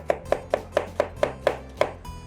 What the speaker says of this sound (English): And then we'll just start chopping it.